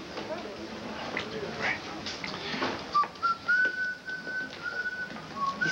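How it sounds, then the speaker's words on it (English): A man whistles a thin, wavering tune over a murky background of voices and room noise, starting partway through and continuing to the end. "He's whistling."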